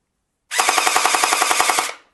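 A rapid burst of sharp, evenly spaced pops from an electric M416 toy blaster firing gel balls, about fifteen shots over a second and a half, close and loud with a mechanical whir.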